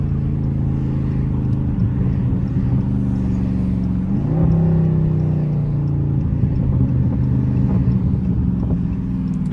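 A 500 hp Dodge Scat Pack engine burbles from inside the cabin while driving in traffic, a steady loud low rumble with a slight rise in pitch midway as it accelerates.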